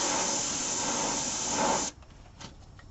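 Spray paint hisses steadily onto a beech bowl through a stencil for about two seconds, then cuts off into near quiet with a brief faint puff afterward.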